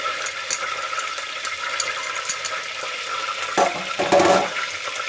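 Water and ingredients are stirred in a pot with a continuous wet swishing, ending in a couple of louder sloshing scrapes.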